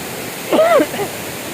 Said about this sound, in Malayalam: ഈ ഒരു വെള്ളം വരുന്നത് കേട്ടോ താഴേക്ക് പതിക്കുന്നത്